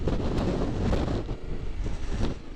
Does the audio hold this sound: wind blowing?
yes